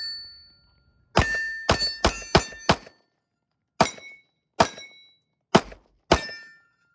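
Nine sharp shots from a Smith & Wesson pistol fired at a bad guy target, a quick cluster of five followed by four more spaced apart, each crack loud and close with a brief ringing tail.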